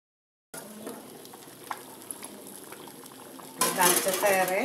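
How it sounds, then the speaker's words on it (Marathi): A lid is set onto a pot of simmering dal. Quiet kitchen ambience with a few light ticks comes first, then a sudden loud metallic clatter and rattle near the end. "आपण झाकण ठेवूया."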